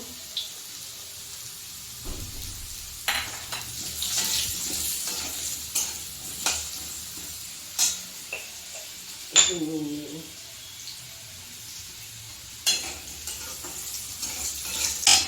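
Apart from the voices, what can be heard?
potatoes frying in oil with turmeric, stirred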